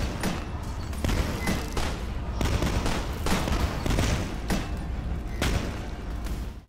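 Enemies in the video game Beneath Dusk firing rivets that resemble fast mortar shells, a dense, steady run of sharp, punchy shots and thuds lasting several seconds, loud and close.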